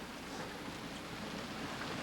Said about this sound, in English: The rain, the wind beating in your face across the gray seas